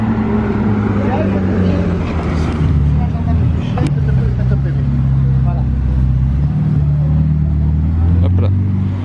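Ferrari SF90 Stradale driving past on a Monaco street, its engine note steady and fairly close under a constant crowd babble, with people chattering throughout.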